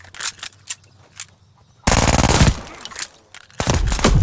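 Rapid automatic fire from a machine pistol with a short barrel in Call of Duty: Vanguard, two loud sustained bursts following quieter clicks and handling sounds.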